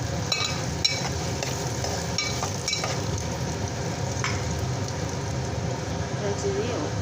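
Two onions frying in oil for a Seema chintha kastalu curry give a steady, close sizzle that crackles and hisses throughout, with spoon stirring scraping now and then.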